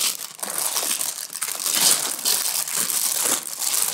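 Plastic bags of building bricks from a BlueBrixx-Pro Star Trek USS Enterprise NCC-1701-D display set crinkle and crunch steadily as they are handled up close, a loud, continuous rustle with no speech.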